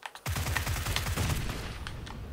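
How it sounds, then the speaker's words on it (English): Rapid gunfire from PlayerUnknown's Battlegrounds on the Sanhok map, a dense sustained volley of overlapping shots at close range that fades slightly toward the end, with no talk. "I'm getting shot from the left."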